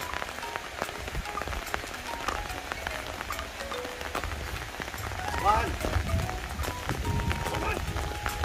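Steady rain hisses and patters on surfaces around an elephant calf outdoors, dense and continuous throughout with a few brief tonal calls over it.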